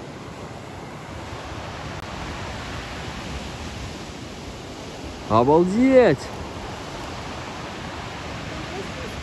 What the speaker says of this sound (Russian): Там прям просто водопад оттуда стекает.